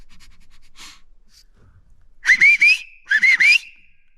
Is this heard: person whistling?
yes